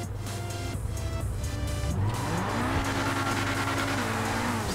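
Grotti X80 Proto supercar in GTA 5 revving hard and climbing through the gears, engine note rising steadily then holding at the rev limiter, loud and continuous with faint tire noise.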